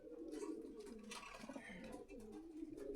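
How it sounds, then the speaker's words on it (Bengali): Pigeons coo steadily at a busy market in Meradia Bazar, Rampura, Dhaka, low rounded calls rolling and overlapping close by against a bed of crowd noise. "কবুতর আছে আটটা, আটটা মাদি"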